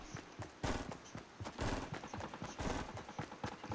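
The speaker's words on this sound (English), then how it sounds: "I guess they're shooting each other." Bursts of Fortnite Battle Royale gunfire during a squads match, several sharp volleys and rapid shots crackling in quick succession at moderate distance, with no talk over them.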